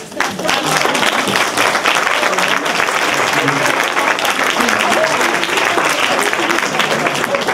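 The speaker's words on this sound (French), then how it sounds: "On peut tous les applaudir." An audience at a literary talk and interview applauds the guests, a steady dense wash of clapping sustained for the whole stretch at even loudness, with faint crowd murmur beneath.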